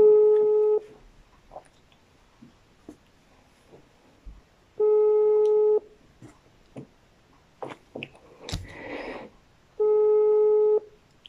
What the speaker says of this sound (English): So I'm calling her right now.